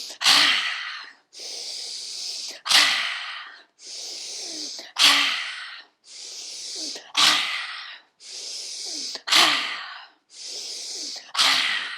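Forceful lion's breath exhalations during a yoga flow: six loud, rasping, open-mouthed outbreaths at a slow, even rhythm, each followed by a softer inhale.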